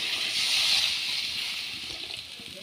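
Water is poured into a hot pan of chuna fish curry on a home stove, a steady hissing gush that slowly fades over a few seconds.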